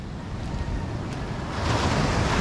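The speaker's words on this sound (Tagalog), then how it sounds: "Biglang lalaki yung alon." Ocean waves surge and slosh around a boat in a loud, continuous wash with wind buffeting the microphone, swelling stronger toward the end; no one speaks.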